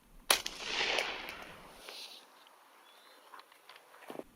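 A Mossberg 930 SPX shotgun fires a single Federal load at a target 30 yards out: one sharp, loud blast early on that trails off into a fading echo, followed by faint shuffling and small knocks.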